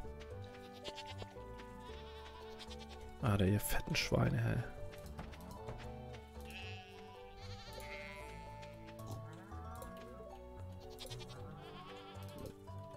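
Sheep and goats bleat among the farm animals in Stardew Valley, several calls close by, with one loud burst near the middle over steady game music while a person talks.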